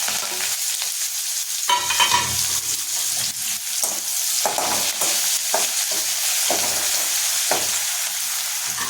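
Garlic, green chili and curry leaves sizzle in hot oil with a dense, steady hiss, broken by occasional stirring scrapes, close and loud with no talking.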